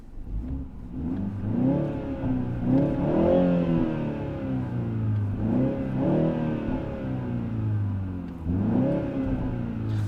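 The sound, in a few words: BMW engine revving in sports mode with exhaust pops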